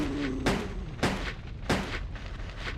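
Gunshots in Resident Evil Code Veronica on PS2: three loud, evenly spaced shots about half a second apart, each a sharp crack with a short echoing tail, over a steady game background hum.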